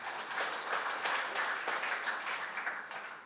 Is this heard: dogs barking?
no